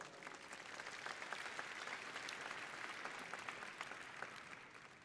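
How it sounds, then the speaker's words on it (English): A large keynote audience at Cisco Live 2025 in Amsterdam applauds in a dense, even wash of clapping heard from a distance and fairly quiet, holding steady throughout. "So give them a big round of applause"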